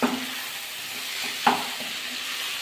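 Pui and mituli chorchori stirred in a pan, a soft scraping of a spatula over a low fry hiss with one sharper clatter midway.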